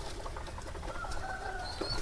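Pigeons coo softly on a pigeon farm, faint and somewhat distant against a constant background hiss.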